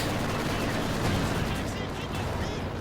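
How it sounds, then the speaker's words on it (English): Pak 40 anti-tank guns fire through smoke in a Company of Heroes 2 battle, their shots buried in a loud, continuous din of gunfire and explosions that runs for the whole stretch. "Pack 40's firing there, trying to sort of hit through the smoke."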